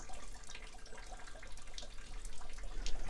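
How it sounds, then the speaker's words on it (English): Clean water from a hose pipe flushing through the rusty radiator of a vintage tractor during an antifreeze change, a steady close rushing and splashing hiss that keeps going throughout. "we've got a hose pipe in, we're just going to flush a bit of water through, just some clean water"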